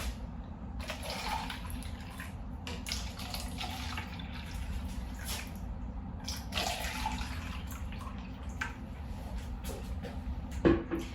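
Fresh water poured into a row of plastic cups for egg dyeing, a series of splashing pours and trickles with brief pauses and a few clinks of cups, no voices.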